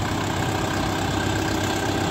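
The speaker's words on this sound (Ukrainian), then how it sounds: "Тракторець на 4 циліндра, повнопривідний, з трьохточкою, валом відбору потужності." A four-cylinder Orion 404 four-wheel-drive mini tractor engine idles steadily nearby, a continuous low chugging rumble with no other sounds.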